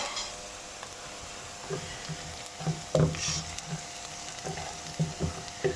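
Chopped tomatoes fry and sizzle in a pan while being stirred, with intermittent scraping and clacking of the spoon over a steady close-up crackle.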